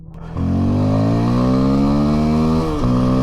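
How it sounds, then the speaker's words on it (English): A Rieju Aventura 307 motorcycle is pushed hard at full throttle: the engine note climbs steadily in a loud, close rising whine, dips briefly as the gear changes, then pulls upward again. "Now let's really open it up at the front, see what the real top speed is."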